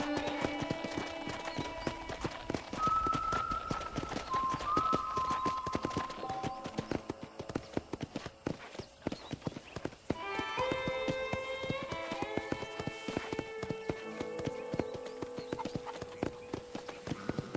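Horse hooves clip-clop at a steady trot in the video game Red Dead Redemption, beneath layered game music and tonal effects, with no talking.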